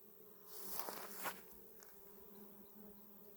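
Bees hum over an apiary as a soft, steady drone, with a brief louder buzz as insects pass close by.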